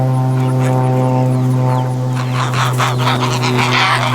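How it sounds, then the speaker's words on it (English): Propeller airplane droning overhead at a farm with emus, a loud, steady engine hum with strong tonal harmonics throughout, with scattered animal calls and faint background noise. "I hear that airplane."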